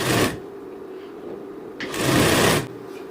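A sewing machine stitches a blouse belt with a half-inch seam margin, running in two bursts: a short one at the start and a longer one near the end, with a quiet pause between.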